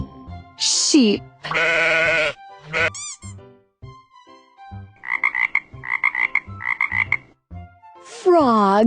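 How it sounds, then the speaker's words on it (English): A frog croaks in rapid, pulsing bursts, a run of short repeated croaks grouped together, next to louder sheep-like bleats and brief spoken words. "Frog."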